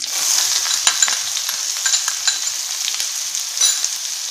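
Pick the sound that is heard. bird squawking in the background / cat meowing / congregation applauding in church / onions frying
onions frying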